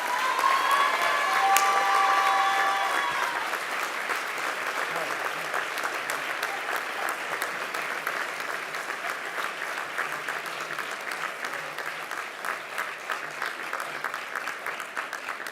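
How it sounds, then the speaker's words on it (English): A large audience applauding at a commencement ceremony, sustained dense clapping with cheers and whoops early on, steady and full for the whole stretch, heard from within the crowd. "it's done. you can clap."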